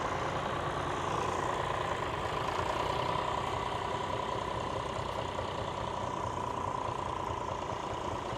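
A John Deere tractor engine runs steadily at a match ploughing practice day, a continuous rumbling drone with a humming midrange, close and constant throughout with no talking.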